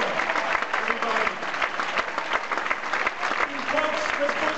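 An audience claps steadily at a Canadian film Q&A as cast members of the 2011 hockey comedy are called up, a dense, continuous applause with a few cheers mixed in throughout.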